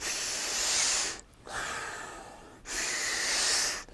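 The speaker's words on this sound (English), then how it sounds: "Breathe in." Deep, slow breaths drawn in during a diaphragm and lung breathing exercise, loud and close, with two long airy inhales separated by a brief pause.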